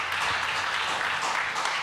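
Audience applause at a chamber of commerce event, a dense, steady burst of many hands clapping that fills the whole moment, with no talking over it.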